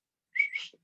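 A person whistles a short, bright two-part call in imitation of a bird's whistle, a quick rising then sliding tone under a second, clear and close in a quiet room.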